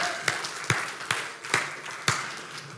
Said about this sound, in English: Clap your hands to the Lord this morning.